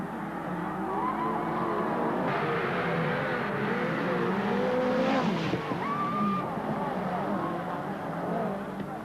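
Midget race cars roar around the Western Springs speedway track during a 1985 derby race, engines droning and revving continuously with tire squeal, close and loud, while a commentator talks over the racing.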